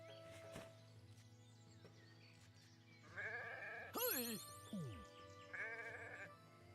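Several sheep bleats in a video game, wavering and close, rise over a steady synthetic background hum with other faint tones.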